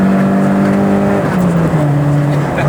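A Toyota Corolla AE86 engine revs hard, its pitch climbing steadily, then drops briefly at a gear change and climbs again, loud and close.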